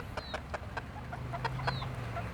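Chickens cluck in short, scattered calls as they are being caught, with a steady low rumble of machinery or wind beneath them and no voices.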